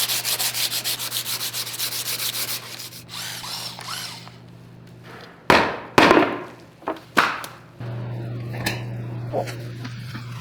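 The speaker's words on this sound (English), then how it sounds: "go over it with some diamond hand sanding pads up to 200 grit just to make it a little smoother" Diamond hand sanding pads up to 200 grit rub over a cast concrete pyramid sink, a continuous scratchy grinding for a few seconds, followed by a quieter stretch with several sharp knocks and a low hum.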